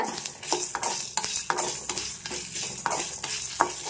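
Three dried red chillies and spices dry-roasted in a pan for an Andhra brinjal podi curry, stirred briskly with a utensil so that quick rhythmic scrapes and rustles repeat over a light sizzle, close and steady.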